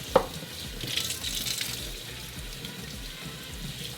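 Tap water runs and splashes over cilantro and parsley being rinsed, a close, steady gush with a sharp knock at the start and no voices.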